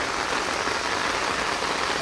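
Heavy thunderstorm rain pours down over rice fields in a dense, unbroken hiss that stays loud and constant.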